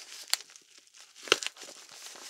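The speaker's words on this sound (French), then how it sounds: "On va y aller à la main. On va déchirer tout ça." Packaging on a product box is torn open by hand, giving sharp crinkling rips and rustles in short bursts with two louder tears, close and fairly quiet.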